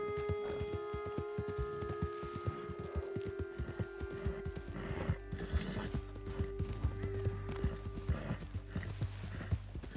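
Horse hooves clip-clopping at a gallop in the Red Dead Redemption 2 video game, a steady rapid rhythm of close hoofbeats with occasional whinnies and game ambience layered over a continuous low rumble.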